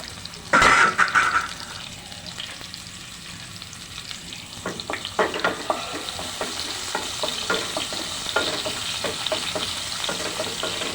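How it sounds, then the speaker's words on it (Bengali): Onions frying in oil in a pan for a fish dish, starting with a sharp loud clatter, then a steady close sizzle with repeated stirring scrapes and crackles and no talking. "তেলের মধ্যে পেঁয়াজটাকে ভেজে নিয়েছি"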